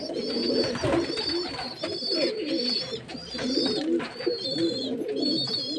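Several pigeons coo steadily while feeding in a ring, their soft repeated calls overlapping and close by, with no talk.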